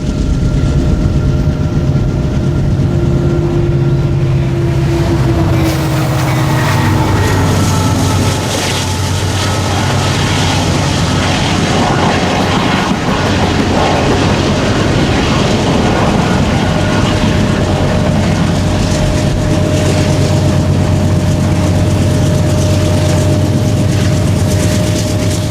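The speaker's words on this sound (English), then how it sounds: "we view a meet between two more Union Pacific trains" Two Union Pacific coal trains meet in the Powder River Basin, loaded cars rumbling past continuously with heavy low engine drone and steady rail roar, close and loud throughout, no voices.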